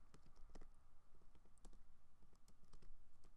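Quick bursts of typing on a computer keyboard, a rapid, uneven patter of soft clicks close to the mic, fairly quiet and without any voice.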